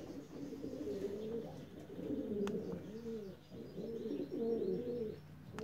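Racing pigeons at the loft coo softly in rolling, repeated phrases, several birds close by with faint chirps over a quiet background.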